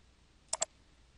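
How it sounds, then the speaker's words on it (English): A computer mouse gives a quick double click, two crisp, close ticks in rapid succession over a faint room hush. "I go to JHAVE.org and click on the button to start the visualizer."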